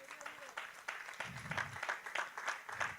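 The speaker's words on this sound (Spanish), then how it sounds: "Dele un aplauso al Señor." A church congregation applauds during a Spanish-language sermon, a steady wash of clapping running for about three seconds at moderate level, with some voices and a low murmur mixed into the clapping.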